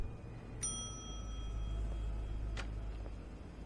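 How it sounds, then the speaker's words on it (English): A front desk bell in a motel lobby in the video game The Wolf Among Us, struck once with a bright ringing tone that fades slowly, followed by a faint second tap a couple of seconds later over low hum. "ring the bell, I guess."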